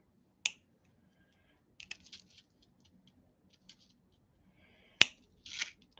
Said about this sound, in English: I'm gonna cut this chain here.